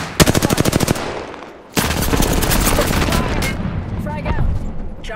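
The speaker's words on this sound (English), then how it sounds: "Listen up, I'm getting shot at." Rapid automatic gunfire in Apex Legends starts as a fast, close burst of evenly spaced shots, stops briefly, then comes back as dense sustained fire mixed with other battle noise, with a voice faintly underneath.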